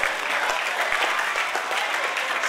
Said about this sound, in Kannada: ಅದೆಷ್ಟು ಜೋರಾದ ಚಪ್ಪಾಳೆಯನ್ನು ನಾವು ಸಲ್ಲಿಸಬೇಕಾಗಿದೆ